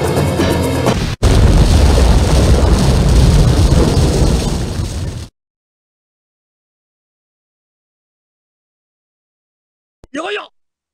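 Explosion in the Japanese-dub PC version of Sonic Adventure DX: a loud booming blast after a brief lead-in, rumbling for several seconds before cutting to silence, followed by a short burst of sound near the end.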